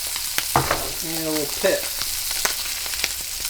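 Trout sizzling steadily as it pan-fries, a constant bright crackle with small pops throughout, while a voice briefly speaks over it.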